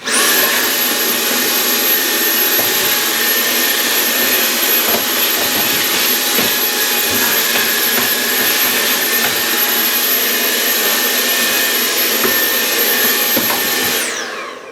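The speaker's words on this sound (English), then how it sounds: "the hoover cleans up the tray" A hoover vacuums loose potting mix from a plastic repotting tray after two Miltoniopsis orchids are repotted, a steady loud whine with a sustained high tone running unbroken for about fourteen seconds before cutting off.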